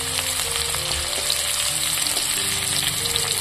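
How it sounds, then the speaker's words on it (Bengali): Chopped onion and a bay leaf fry in hot oil. The crackling sizzle is loud and continuous, close by and alone, with light stirring scrapes mixed in. "তেলটা গরম হয়ে যাওয়ার পর এর মধ্যে দিয়ে দিলাম একটা তেজপাতা আর সঙ্গে দিলাম পেঁয়াজ কুচি।"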